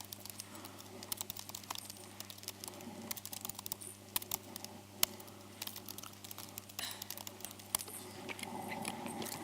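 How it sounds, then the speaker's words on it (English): Rapid typing on a computer keyboard to write a commit message, with irregular faint clicks and clatters over a low steady hum, quiet and close. "I'm going to write another hideous commit message"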